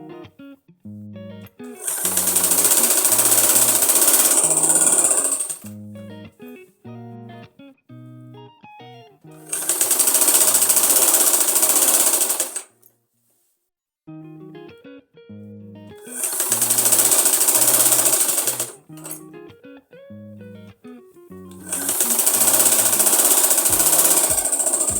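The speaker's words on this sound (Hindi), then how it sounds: "इसके साथ साथ हमने इसके ऊपर सिलाई लगाते हुए जाना है।" A sewing machine stitching pleats on an Afghani salwar runs in four loud bursts of rapid, buzzing stitching, with quieter mechanical clicks and handling sounds between them.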